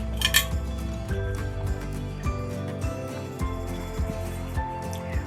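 A serving spoon scrapes and clinks against a metal pot while cooked chicken kabsa rice is dished out, with repeated light metallic taps and scrapes at close range and no talking.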